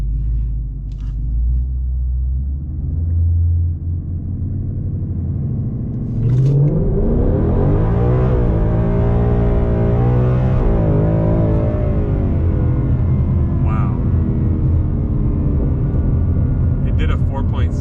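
A 2020 Mustang GT on an E85 flex-fuel tune launches in drag-strip mode with traction control off, its engine rumbling low then surging loudly into a rising, full-throttle roar heard from inside the car.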